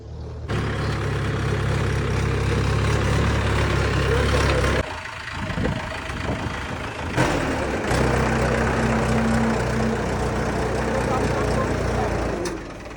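A tractor engine idles with a low, steady rumble close by, dipping briefly midway before resuming; voices talk faintly beneath it.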